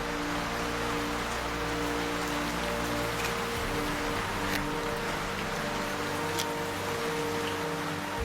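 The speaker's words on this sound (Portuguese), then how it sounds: "A chuva cai continuamente, está muito forte, a intensidade está aumentando." Heavy rain falls continuously on a surface near a river, a dense unbroken hiss of drops with occasional sharper splashes over a low steady rumble.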